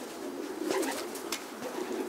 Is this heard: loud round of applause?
no